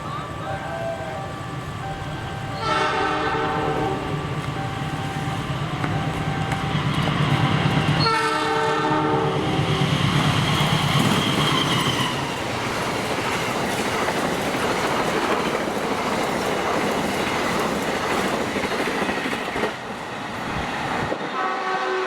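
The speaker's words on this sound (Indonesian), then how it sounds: "sudah lewat kereta api Argo Parahyangan 41B yang menyusul kereta api Mataram 135B di stasiun Karawang." Argo Parahyangan 41B train passing through Karawang station while overtaking the waiting Mataram train, loud and close, with horn-like tonal bursts and steady rolling wagon rumble and clatter throughout.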